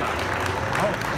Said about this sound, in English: I suggest you clap now